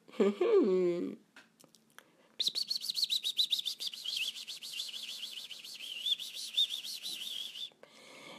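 A small bird chirps in a garden with cherry trees, a rapid run of bright, high tweets lasting several seconds after a brief voice at the start, near and fairly loud.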